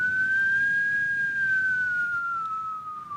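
A person's voice imitates a siren with a steady, thin whistle-like wail that holds its pitch, rises slightly, then slowly falls over about three seconds, loud and alone.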